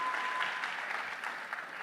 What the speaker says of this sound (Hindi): ताली होनी चाहिए यार